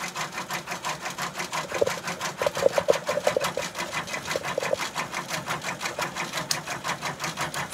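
A Brother PR655 embroidery machine sews a knockdown stitch, a fast even mechanical ticking and whirring that carries on steadily throughout at moderate volume.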